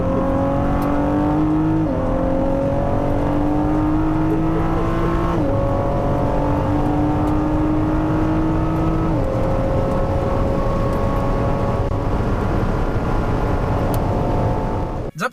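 A Ford V6 twin-turbo car engine revs loudly and steadily, its pitch climbing through several gear steps, heard from on board on the circuit at Le Mans during the 24-hour race.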